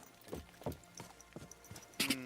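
A horse's hooves clip-clop at a steady walking pace in Kingdom Come Deliverance 2, about six soft, fairly distant hoof strikes in a quiet setting.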